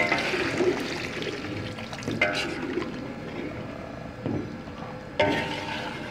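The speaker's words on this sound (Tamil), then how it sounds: "masukkan air asam jawa" Tamarind water is poured into a boiling fish curry, giving a close liquid splash and gurgle over steady bubbling, with a few sharper pours and splashes along the way.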